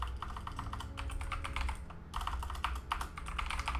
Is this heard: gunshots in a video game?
no